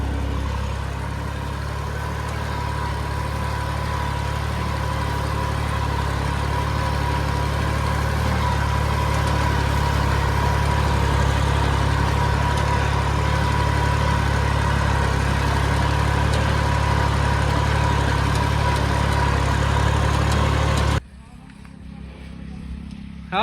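A tractor engine runs in L4 gear, a steady loud low drone close by that cuts off abruptly near the end, with people talking beneath it.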